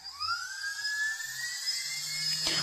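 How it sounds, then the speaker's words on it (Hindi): Brushless motor of an RC plane spinning fast after its power is raised, a steady high-pitched whine rising slightly in pitch, close and continuous with no talk. "यहाँ पर मोटर काफ़ी फास्ट चल रहा है।"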